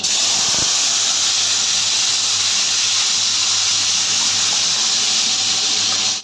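Hog plum and panch phoron with whole dried chillies sizzle hard in hot oil for an amrar chutney, a loud, steady frying hiss that holds evenly from start to end with no voices.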